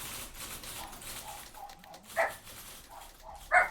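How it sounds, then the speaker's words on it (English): Puppies in the video game The Beginner's Guide give a couple of short yips or barks, the second sharper, over a faint, steady background hum. "Puppies are speaking."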